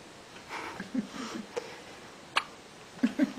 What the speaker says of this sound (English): Is he still hiccuping or not?